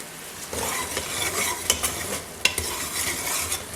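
Mutton karahi with ginger sizzles and frys in a pan, with a steady hiss broken by scraping stirs and occasional sharp utensil clinks against the metal, close and without talk.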